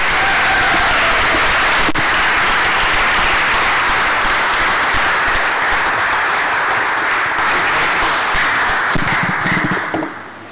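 A church congregation claps warmly to welcome ministers at a Sunday morning service, a loud sustained roll of many hands that carries on for about nine seconds before thinning into a few scattered claps and thumps.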